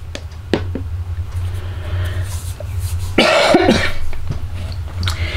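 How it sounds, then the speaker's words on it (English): A single harsh cough bursts out close by over a low, steady background rumble, with small clicks and handling noises around it. "Yes, I still have that nagging cough,"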